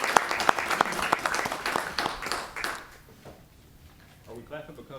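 A burst of audience clapping at a city commission meeting rings out for a few seconds, then fades away, leaving quiet room noise and a bit of faint talking.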